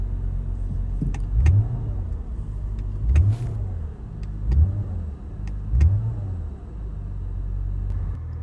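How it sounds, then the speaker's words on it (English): Manual-transmission car engine revved in neutral while stationary, four rising-and-falling rev bursts about a second apart over a steady idle rumble, close and loud with no talk. "I can rev the engine freely, and the car won't move, and it won't turn off"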